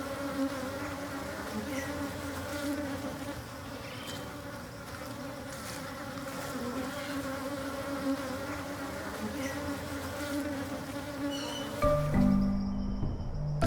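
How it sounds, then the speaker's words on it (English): Bees buzz in a dense, continuous drone, faint and steady throughout, with a few louder passes near the end against a quiet outdoor backdrop. "the bees are making honey"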